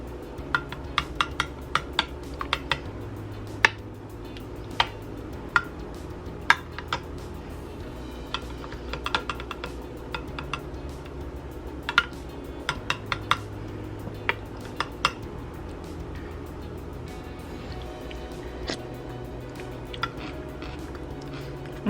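A spoon mixes shrimp cocktail sauce of ketchup, lemon and Tapatio in a bowl, giving scattered clinks and scrapes against the dish at an irregular rhythm, close and fairly quiet.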